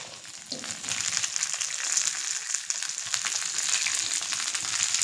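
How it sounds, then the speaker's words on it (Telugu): Dried red chillies and green chillies frying in hot oil for a chutney, giving a steady, close, crackling sizzle that grows slightly fuller and stays continuous without any talk. "ఇవన్నీ త్వరగా వేయించేసుకుని ఎండుమిర్చి కూడా వేసేసుకుందాం"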